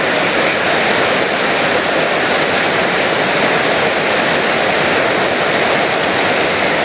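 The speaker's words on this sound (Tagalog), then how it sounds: "palakas ng ulan mga guys oh" Heavy rain pours down in a dense, steady roar that stays loud and unbroken from start to finish, with no voices.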